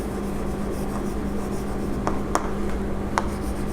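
Chalk or marker writing notes on a board, heard as soft continuous scratchy rubbing with a few sharper strokes and taps, all under a steady hum of room noise and no talking.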